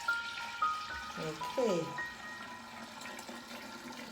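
Tea being poured into a kombucha jar holding starter liquid, a short liquid pour with rising gurgle midway, close and moderately loud, with a brief spoken word at the start.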